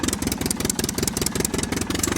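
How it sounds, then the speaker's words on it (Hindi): A cartoon mini tractor's engine chugs steadily at low revs as it climbs slowly uphill, a continuous rhythmic mechanical putter filling the whole stretch at moderate loudness with no talking. "चलो मिनी ट्रैक्टर धीरे धीरे चढ़ाव आ रहा है।"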